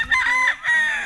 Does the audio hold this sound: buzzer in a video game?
no